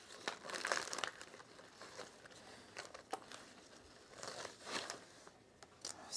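A cheap plastic pack of nylon zips crinkles and rustles as it is handled, soft intermittent crackling bursts at close range in a quiet room.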